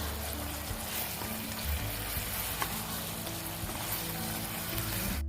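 Manchurian balls simmer in Schezwan sauce in a pan, giving a steady close sizzle with soft stirring scrapes and occasional small pops throughout.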